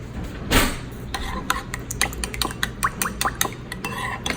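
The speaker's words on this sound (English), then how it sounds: "And then we're just gonna stir it up." Utensil stirring a pasta salad dressing with red chili pepper in a bowl, an initial louder scrape followed by a rapid, irregular series of light clinks and taps, close by and moderate in volume.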